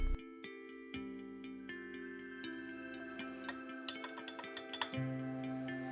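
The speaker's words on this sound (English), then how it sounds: "This mixture now needs to be slowly stirred for the next half an hour." Soap mixture made from recycled fat being slowly stirred in a container: soft, irregular clinks and taps of a utensil against the sides, growing busier toward the end, over a steady background tone.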